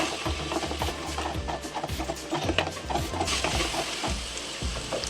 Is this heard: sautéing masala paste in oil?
yes